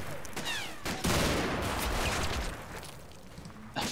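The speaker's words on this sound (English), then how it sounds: "Oh! He's firing back." A machine gun fires back in World War II combat footage, loud crackling bursts and rattling volleys forming a dense, sustained barrage with an echoing tail, a voice briefly heard near the start.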